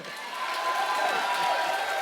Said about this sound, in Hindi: तालियां अगर आपका मन हो तो बजा लेना